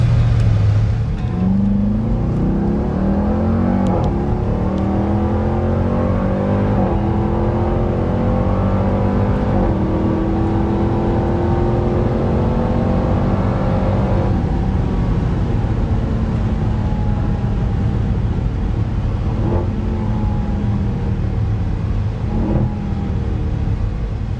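A stock 2021 Dodge Durango Hellcat SUV engine accelerates hard, a loud, sustained roar with rising harmonic sweeps as it revs through gears, heard from inside the vehicle with no talking.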